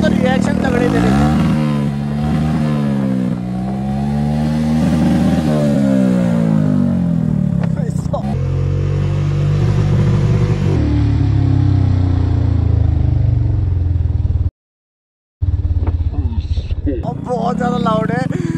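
A very loud motorcycle revs repeatedly, its engine note rising and falling in long surges, with a brief dropout and people talking over the roar.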